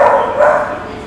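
A big adoptable shelter dog gives a short bark or yelp that is loud and close. It fades out over about a second, with a little background voice under it.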